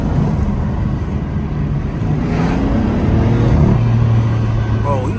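A BMW M3 F80 with a turbocharged engine drones steadily from inside the car, a low continuous engine hum with rising and falling pitch as it drives, fairly loud throughout with some background murmur.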